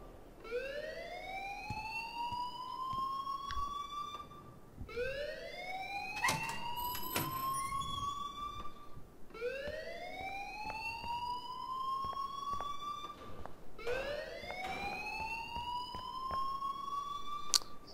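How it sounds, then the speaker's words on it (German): An alarm blaring in the video game Life is Strange, with a rising electronic whoop repeating four times at steady intervals of about four seconds, loud and continuous, with a few sharp clanks between cycles. "please turn off that alarm since that's your job"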